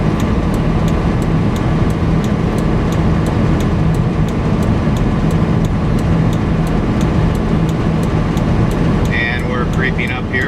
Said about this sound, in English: The Jake brake is on full